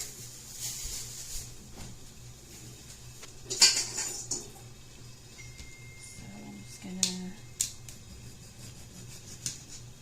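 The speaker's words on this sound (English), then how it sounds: "Some good thin slices of tomato" A knife cuts thin slices of tomato on a board, with a few sharp clicks and taps of the blade and kitchen clatter over a low fan hum.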